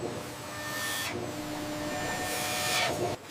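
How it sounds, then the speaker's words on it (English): Automated blade machine cutting fish leather on a factory floor, a steady, close mechanical whir and hiss that runs continuously, shifts slightly midway, then cuts off abruptly near the end. "A razor-sharp blade begins cutting the leather with surgical precision."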